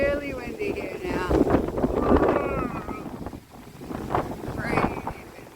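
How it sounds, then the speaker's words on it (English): Strong, gusting wind buffets the microphone outdoors beside a pegged-down van as a cyclone approaches, the roaring rising and falling in surges, with faint voice-like tones sounding now and then. "it's getting really windy here now"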